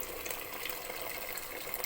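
Boiling water, about 1.5 liters, pours steadily into a pot of minestrone soup in a home kitchen, a continuous even splashing rush that holds constant throughout with no talk.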